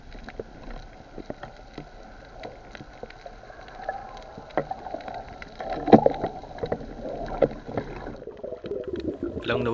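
A boat passes overhead, heard from underwater on a dive off an island, as a low churning hum with bubbling and gurgling that swells toward the end amid steady underwater noise.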